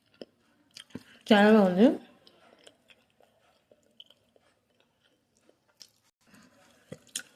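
Someone eating hot fish curry, with soft chewing and mouth sounds close by in a quiet room, and a person speaking briefly.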